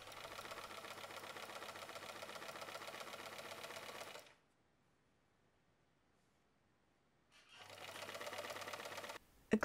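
A sewing machine stitches along a fabric edge in two steady, rapid bursts of mechanical whirring, the first about four seconds long, then a silent pause before a second run and a final clunk.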